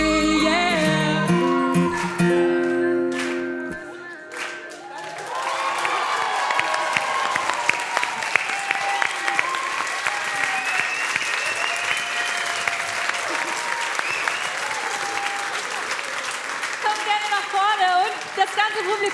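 Song contest final audience cheering, opening on the last notes of music and then giving way to long, loud, sustained applause with whoops and crowd noise.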